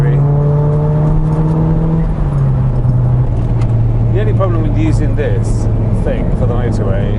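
A Ford Focus RS MK1 accelerates hard along a motorway, its engine rising and shifting through gears loudly and steadily throughout, with someone talking over it.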